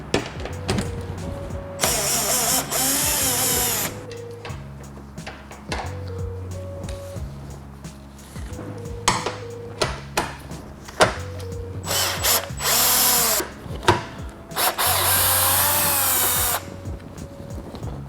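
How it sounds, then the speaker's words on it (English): A power drill with a 10mm socket whirs in bursts, its ratcheting buzz alternating with mechanical clicks and clatter as it works headlight bracket bolts loose on a 2014-2021 Toyota Tundra. "we're going to be doing that with a 10mm socket and a power drill"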